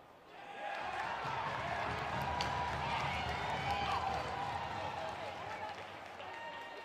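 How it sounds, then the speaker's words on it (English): Crowd applause at a boys high school hockey game between Moorhead and Benilde-St. Margaret's, a steady wash of clapping and cheering from the arena stands that swells after the first second and holds throughout, with an announcer's voice over it. "Round of applause there"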